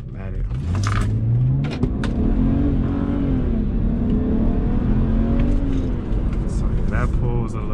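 A tuned car with a JB4 tune and MHD flash accelerating hard through a pull, engine note rising steadily in a loud, close in-cabin drone, with voices talking over it.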